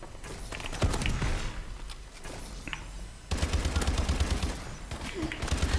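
Rapid gunfire from Call of Duty: Advanced Warfare, with a shotgun among the weapons, sounds as dense bursts of shots, loud and close, over a steady game background, with a short lull midway before heavier firing resumes.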